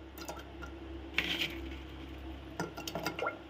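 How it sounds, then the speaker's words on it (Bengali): Jackfruit seeds dropped into a pressure cooker make soft, faint clinks and squishy knocks in a few small clusters, close and quiet over a low background hum. "তো আমি প্রেসার কুকারে এই দানাগুলো বা আটিগুলো কাঁঠালে দিয়ে দিচ্ছি।"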